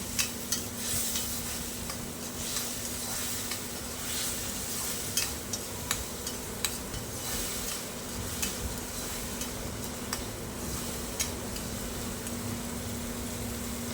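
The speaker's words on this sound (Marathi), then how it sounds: "एक बारीक चिरलेलं टोमॅटो आणायचो तो सुद्धा व्यवस्थित असं परतून घ्यायचं" Chopped tomato and onion are sautéed in a pan for a spicy dried-shrimp dish, with a steady, close sizzle and occasional scraping of a spoon while stirring. The sound is continuous, with no voices.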